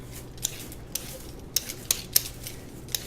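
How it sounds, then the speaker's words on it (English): Sweet potatoes being peeled by hand in a kitchen, giving a series of sharp, irregular scraping clicks close by over a soft, steady background, with no talking. "we're going to peel these potatoes"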